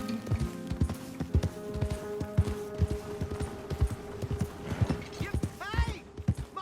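Horse hooves clip-clop in a steady walking rhythm in Red Dead Redemption 2, fairly close, with a short whinny near the end and a voice speaking briefly over the hoofbeats.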